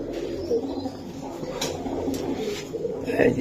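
Budapest pigeons at a breeding farm coo in soft, repeated low calls close by, with light rustling and faint human voices in the background.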